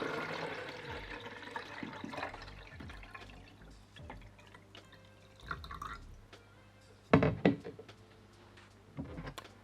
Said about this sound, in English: Fill up with 1 litre of fresh,